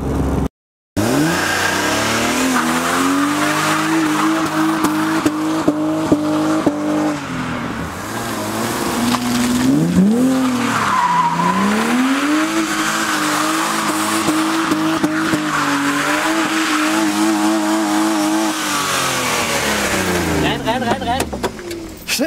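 A BMW E36 325i with an M50B25 engine revs and accelerates loudly up and down through the gears, with tire squeal as it corners, close inside the car while people talk over it.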